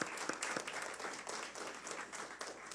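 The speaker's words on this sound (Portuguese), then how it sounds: "Uma salva de palmas para o Maurício." Applause from an audience welcoming a new member of the Education Ministry team at an official announcement event, steady dense clapping throughout with a few sharper nearby claps.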